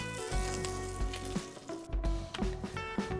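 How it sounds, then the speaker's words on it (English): Steady crackling sizzle of ghee frying in a pan, close up, with small pops and spits and no talking. "As a lovely sizzling sound."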